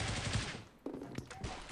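Automatic gunfire from the Critical Ops mobile shooter game on an iPhone comes as a fairly faint rapid burst, followed by a lull and a few sharper scattered shots.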